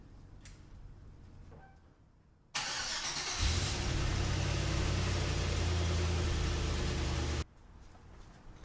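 A Chevrolet C10 with an LS swap engine cranks and fires, then settles into a loud, steady idle for about five seconds before cutting off, alone with no talk.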